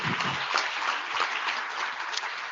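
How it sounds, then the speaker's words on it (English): Steady applause from a large conference plenary audience at IETF 115, thanking the volunteers; dense, even clapping throughout, fairly loud and without a break. "There's always a lot of clapping in my bit."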